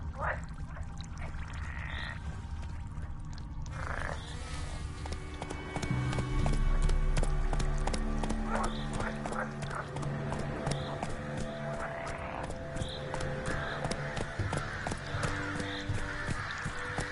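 Horse hooves in The Witcher 3 video game, a steady run of clip-clop beats that keeps up throughout and grows a little louder past the midpoint, set among game ambience with croaking frogs and no talking.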